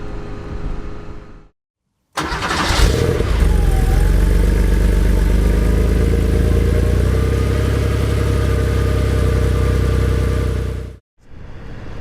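Classic Porsche engine while driving at slow speeds, a loud, steady close-up drone after a sharp start, holding an even note for about nine seconds before cutting off abruptly.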